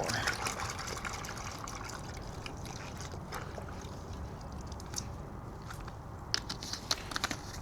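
Rinseless wash liquid trickles and splashes into a bucket of water, a continuous soft gurgling pour with a few small clicks and taps near the end.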